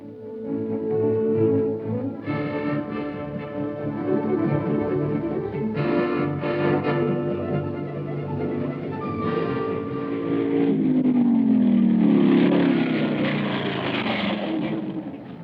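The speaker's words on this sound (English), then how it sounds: "The deep-throated rumble of the Offenhauser engine is heard only once on the hill this year" Deep rumble of an Offenhauser racing engine climbing the hill at the 1965 Pikes Peak hill climb, a steady loud drone rising in pitch as it accelerates and revs toward the end.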